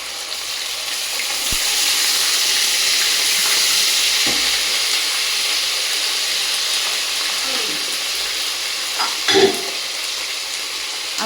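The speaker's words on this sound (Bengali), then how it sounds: "এইদিকে আমার মুরগির চিকেনটা রান্না করব, এই জন্য হচ্ছে পেঁয়াজ এদিকেও হয়ে গেছে ভাজা" Chicken pieces fry with onions and spices in a pan, a loud continuous sizzle with occasional stirring clinks and scrapes near the end.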